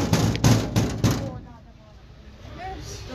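Several firm knocks on a door land in quick succession at the start, loud and close, then fade into a low rumbling background with faint voices.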